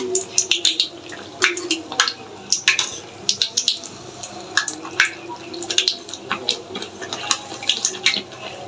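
Poa pitha batter fries in hot oil, with irregular bursts of close popping and sputtering crackle repeating throughout over a low background.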